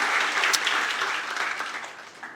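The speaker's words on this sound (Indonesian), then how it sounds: "Beri tepuk tangan dulu buat Tuhan Yesus." A church congregation at a Sunday service in Batam claps together in a short, dense burst that slowly tapers off, with no talk over it.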